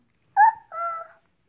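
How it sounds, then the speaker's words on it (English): A dog gives two short, high yipping barks in quick succession, close and clean against silence, the second slightly longer than the first. "Dog."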